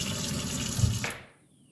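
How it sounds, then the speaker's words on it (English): Warm soapy water running and sloshing while a vase is scrubbed clean with a bottle brush, a steady close watery rush that cuts off near the end, leaving quiet. "I have a nice little bottle brush that I like to use. And I just use warm soapy water"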